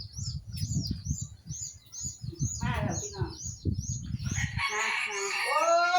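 Chickens on a bantam chicken farm in Chanthaburi, Thailand, with a person talking steadily throughout, repeated high chirps and clucks, and a louder burst of bird calls near the end.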